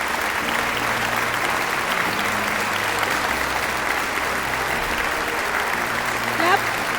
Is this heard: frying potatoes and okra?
no